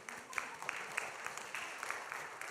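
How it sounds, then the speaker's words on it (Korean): Applause from a church young-adult worship congregation, a steady patter of clapping at moderate, fairly distant level throughout, with no voices standing out. "격려와 사랑의 박수 할까요?"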